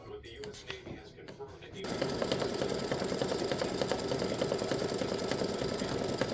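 An embroidery machine stitching a popsicle design starts up after a moment of quiet handling and then runs with a fast, steady, rhythmic whirring chatter, close by.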